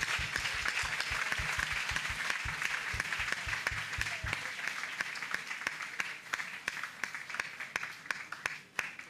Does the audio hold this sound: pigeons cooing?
no